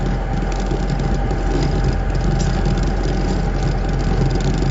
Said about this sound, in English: we're just motoring into the wind for our well-wishers